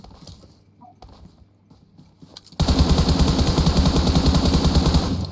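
Rapid bursts of gunfire in PUBG Mobile: faint scattered shots at first, then a loud, dense run of automatic fire that continues to the end.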